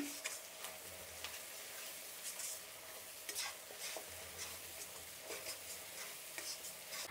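Onions frying with masala in a pan for coconut rice, stirred with a spoon that scrapes and ticks against the metal over a soft continuous sizzle, close and fairly quiet.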